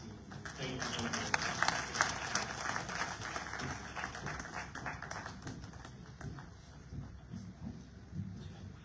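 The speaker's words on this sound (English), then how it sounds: "Please give him a warm round of applause one more time" An audience in a hotel hall claps at a health fund launch event. The applause starts fairly strong and thins into scattered, fading claps.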